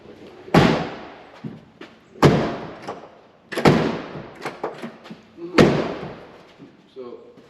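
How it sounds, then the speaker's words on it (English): A car door is slammed shut four times, each a loud, sharp thud with a brief rattle, separated by quieter pauses and light handling noises. "So door doesn't want to shut."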